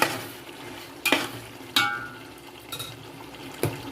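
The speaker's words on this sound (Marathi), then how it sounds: "तेलामध्ये मस्त आपलं चिकन फ्राय होते" Chicken sizzles quietly in hot oil while a utensil stirs it, with several sharp scraping clinks against the pan.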